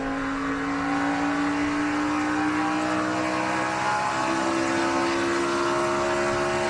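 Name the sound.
NASCAR race car engine lugging after late gear shift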